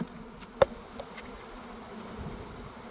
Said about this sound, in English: These bees are a little flighty, starting to warm up a little bit.